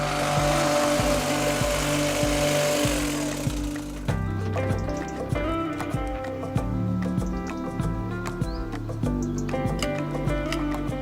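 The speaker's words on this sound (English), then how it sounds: "You could use shears, but I like to use a hedge trimmer." A hedge trimmer cuts leylandii and yew hedges in a garden, its motor buzzing steadily with fluctuating load and snipping clatter, close and loud, birds chirping faintly in the background.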